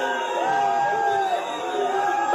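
A gathered crowd shouts together toward the heavens: a loud, sustained wash of many voices with whoops and cries that swell and overlap for a couple of seconds.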